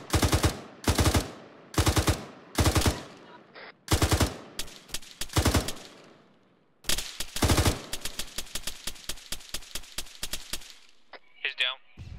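ArmA 3 combat gunfire: bursts of automatic fire in short, sharp clusters, then a rapid string of single shots, loud and close with echoing tails and a brief gap between volleys.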